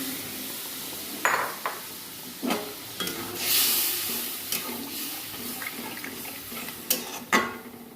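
Prawn curry simmers and sizzles in a pan after a splash of water, a soft steady bubbling hiss broken by a few sharp utensil knocks and scrapes, close with no talk.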